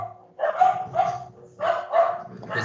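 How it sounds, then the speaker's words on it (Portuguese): Dogs bark close by in short groups of two or three yapping barks, with brief pauses between the bursts. "Vou tentar amenizar os latidos"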